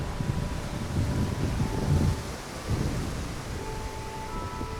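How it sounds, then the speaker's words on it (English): Strong wind roars steadily outdoors ahead of an approaching storm, buffeting the microphone with rumbling low gusts throughout and no one speaking. "It's really windy because a storm is coming."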